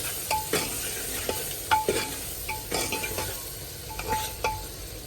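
Spices frying and being stirred in a pan for a carrot curry cooked in a truck, with a steady sizzle and repeated scraping strokes of a utensil against the metal, close and alone.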